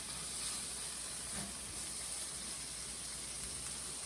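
Vegetables, being prepared as crudités for a veggies-and-dip dish, browning in a hot pan give a steady, even hiss and sizzle that holds unbroken and fairly soft throughout, with no talking.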